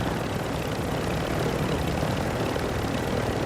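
Helicopter flying in a video game, a dense, steady rotor-and-engine roar filling the whole clip at even loudness with no talk.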